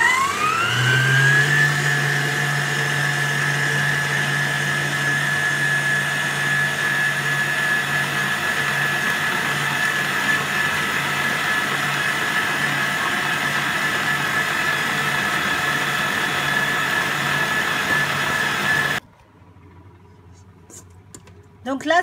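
A stand mixer kneads pizza dough for rolled pizza snails after 500 g of flour goes in, a steady loud motor whine with a rising pitch at start-up that runs unbroken for about nineteen seconds, then cuts off abruptly.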